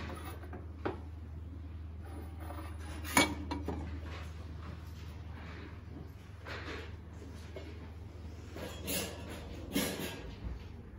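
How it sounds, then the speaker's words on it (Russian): Cobalt blue plates handled at close range, giving sharp ceramic clinks and clatters scattered irregularly over a steady low hum, with several louder knocks toward the middle and end. "Кубальтовые тарелки."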